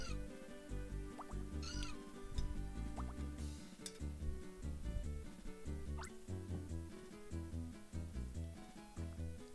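Skitty cat cries from the Nintendo DS game Pokemon Ranger, short synthesized meows repeating over busy chiptune-style background music, fairly loud and continuous.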